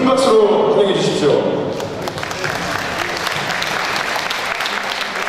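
A speaker's voice opens, then a loud, sustained round of audience applause welcomes a former lawmaker as guest of a book concert, steady dense clapping filling the rest of the moment.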